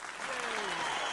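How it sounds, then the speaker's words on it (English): A short burst of dense applause and cheering for a new 800th member joining a live stream's green room, loud and continuous, with a faint voice beneath it. "Deserves an applause, doesn't it?"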